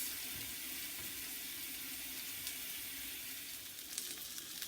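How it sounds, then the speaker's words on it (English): Firecracker salmon sizzles steadily in a hot pan, a soft, even hiss of frying oil that runs unbroken throughout, faint and with no one speaking. "we're gonna let that kind of simmer for the next 7, 8 minutes"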